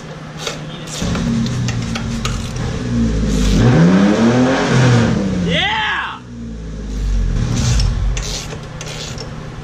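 A 1997-2001 Honda CR-V engine revs loudly and close by, rising in pitch through a couple of throttle blips with a rough, rowdy tone, while a person's voice cheers over it.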